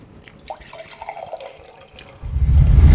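Water poured into a glass in a home, starting with faint scattered drips and trickles, then a loud, close rush of water filling the glass for the final second.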